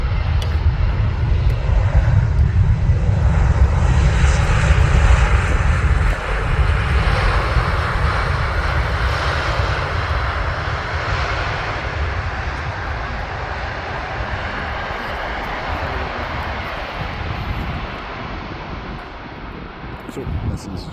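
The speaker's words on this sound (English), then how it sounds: "So, das ist Jet A320neo." An Airbus A320neo jet lands at Amsterdam airport on a sunny day, its engines producing a loud, close, continuous roar that holds steady and then slowly eases off.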